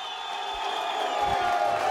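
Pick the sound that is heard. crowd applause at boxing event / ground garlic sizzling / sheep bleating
crowd applause at boxing event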